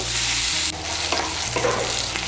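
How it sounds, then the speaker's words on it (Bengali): Chopped onion frying in hot oil, stirred with a spoon in a pan: a steady loud sizzle with scraping stir strokes, close up and without talk. "পেঁয়াজ কুচিটাকে তেলের সঙ্গে মিশিয়ে নেব, মিশিয়ে নিয়ে লাল করে ভেজে নেব।"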